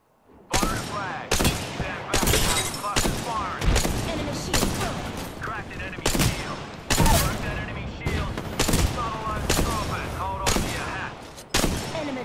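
Rapid bursts of gunfire from the Apex Legends video game, loud and close, with repeated sharp volleys through the clip and a voice talking between shots.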